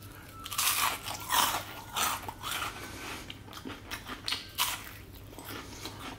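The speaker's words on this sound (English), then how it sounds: "These are super crunchy." Someone biting into extra crispy fried chicken balls, a series of loud close-up crunches followed by rhythmic chewing, irregular bursts over several seconds with no talking.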